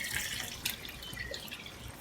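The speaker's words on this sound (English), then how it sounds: "4 cups of water." Water is poured into a pot of rinsed black beans with diced onion and chorizo: a close, steady splashing trickle with one brief brighter splash partway through.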